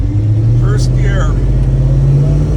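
A car with a C4 automatic transmission, shifted manually, pulls away in first gear with a loud, close engine drone holding a steady low note, with a brief voice passing over it.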